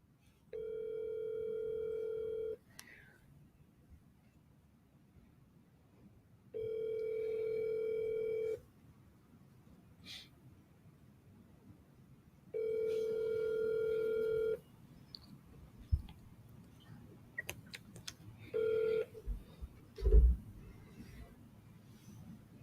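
Telephone call tones sound in three steady beeping bursts of about two seconds each, separated by pauses, followed by short dialing blips and clicks, with quiet room noise between and no talk.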